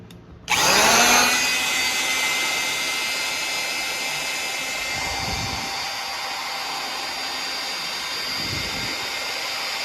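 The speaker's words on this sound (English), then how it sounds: "We have our homemade priming tool. So we're going to prime this motor, and hopefully we see oil coming out of these rockers." A power drill starts abruptly and runs at a steady high whine, turning a homemade oil priming tool inside a Camaro engine, loud and close, sustained with slight load changes and no talk.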